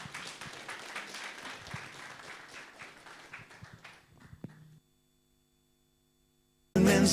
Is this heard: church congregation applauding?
yes